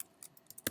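A computer keyboard tapped with a few quick, light keystrokes, close and quiet, ending in one sharper key press.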